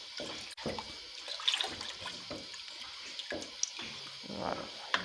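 Tap water running steadily at a kitchen sink while a cooking utensil is rinsed during preparation of spiced porridge, a soft continuous splash with a few small clinks, heard alone and fairly close.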